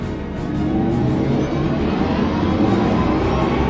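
An Audi e-tron GT electric car drives past with a steady, smooth whirring hum and broad road noise, continuous and fairly loud throughout.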